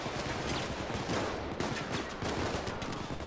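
Gunfire in Payday 2, a dense, sustained clatter of rapid shots with no pause.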